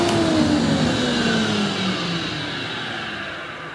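An Axminster AT129PT planer thicknesser with spiral cutter head running alongside its dust extractor, a loud steady mechanical roar with a tone slowly falling in pitch, close and continuous, no voices.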